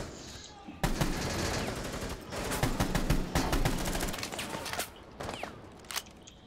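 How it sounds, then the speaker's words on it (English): Rapid automatic gunfire in Rainbow Six Siege Terrorist Hunt, enemies shooting in from outside as dense, loud bursts of shots that continue for several seconds with brief gaps and quick follow-up volleys. "I think they're shooting us from outside."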